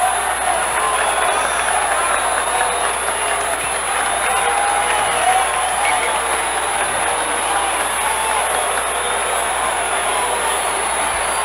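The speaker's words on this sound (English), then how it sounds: "Listen to this crowd." A large crowd at a 1974 Yankees versus Mets baseball game at the stadium roars in a continuous, loud wash of cheering and applause, sustained without letup, with a radio broadcast's background hum.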